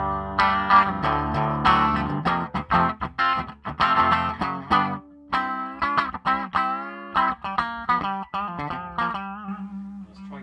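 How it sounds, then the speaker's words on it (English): Electric guitar riff through an Ibanez TSA15H valve amp without the Tube Screamer engaged, played on a Gibson Flying V: loud, close chords and single notes in a steady rhythmic riff with short pauses, no talking. "So if we'll just sort of give you a little riff, just so you can hear what it's like without the tube screamer."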